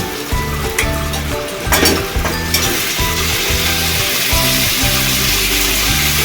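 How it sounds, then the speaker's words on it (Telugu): Onion, spice paste and turmeric frying in oil for a meal maker curry, a steady close sizzle with rhythmic stirring scrapes throughout and a few sharper crackles early on. "పేస్ట్, ఉల్లిగడ్డ, పసుపు కొంచెం నూనెలో వేగాలండి"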